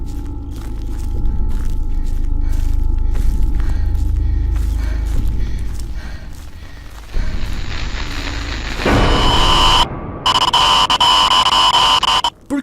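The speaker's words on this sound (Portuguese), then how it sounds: "Os ruídos causados por Slender dão até agonia." Creepy noises and static from the Slender video game: a dense low rumbling drone with constant hum builds into harsh bursts of loud static and distortion that cut in and out toward the end.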